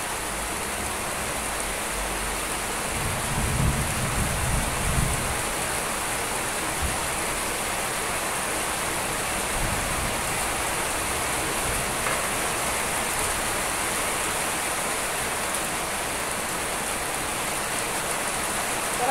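Heavy rain pours down steadily in a dense, continuous hiss, with a few low rumbles early on.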